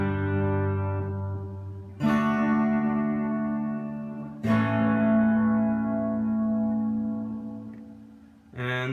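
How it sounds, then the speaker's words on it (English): Electric guitar chords ring through a vintage Ace Tone EC-10 echo chamber, three struck chords each swelling with repeating echoes and a thick chorus shimmer that slowly decays. "Sounds really fat, has a lot of echoes, and there's almost like a chorus with it."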